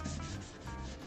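A cloth rubs briskly over an unsanded pine wood picture frame, a close, soft, continuous scrubbing swish with slight rhythmic surges.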